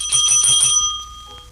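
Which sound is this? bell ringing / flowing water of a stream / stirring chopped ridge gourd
bell ringing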